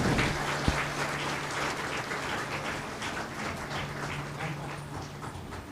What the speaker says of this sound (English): Kindly welcome him with a heartfelt round of applause.